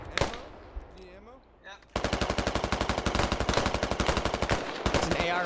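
AR rifle fire in a squad video game, a sustained rapid burst of loud automatic shots after a few scattered single shots and brief talking at the start.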